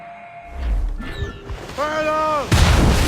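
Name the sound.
naval cannon fire and impacts in Assassin's Creed Rogue video game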